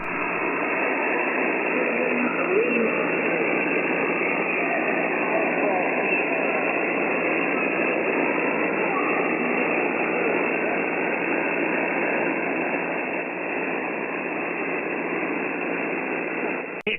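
Steady hiss of static fills the 20-meter amateur band on an HF receiver, dense and unbroken throughout, with a faint buried voice barely hinted under the noise, loud and constant.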